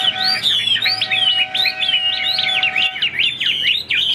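A Chinese hwamei songbird sings loudly and close by, pouring out a continuous run of rapid, varied whistled phrases and slurred notes with barely a pause, alone over a faint hiss of background noise.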